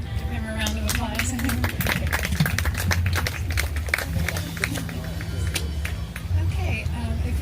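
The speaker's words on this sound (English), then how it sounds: "Let's give him a round of applause." Scattered clapping from an audience after a talk at the Naples Veg Fest 2020, sharp claps mixed with crowd chatter and a steady low hum, continuous and fairly close for the whole stretch.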